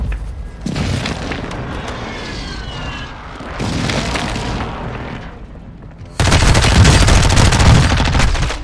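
Airstrike explosions in a multiplayer shooter video game, a sustained barrage of loud booms and rapid blasts rolling over several seconds, swelling to a heavier, denser burst near the end.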